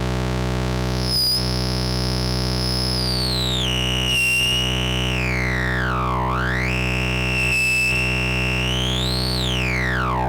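Stylophone GEN R8 analog synthesizer playing a sustained, distorted tone through a resonant low-pass filter whose cutoff sweeps down and up, loud and alone with brief rhythmic dips.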